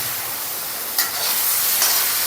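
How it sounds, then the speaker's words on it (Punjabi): Eggplant curry (baingan sabzi, Punjabi style) frying in a pan, a steady close hiss with a couple of sharper spurts of sizzle partway through, no voices. "ਇਹਨੂੰ 2 ਮਿੰਟ ਵਾਸਤੇ ਇਹਨੂੰ ਫਰਾਈ ਕਰਾਂਗੇ"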